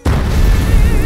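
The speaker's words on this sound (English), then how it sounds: "Let's end it with an explosion." A sudden loud explosion bursts in and holds as a deep, rumbling roar for the rest of the moment.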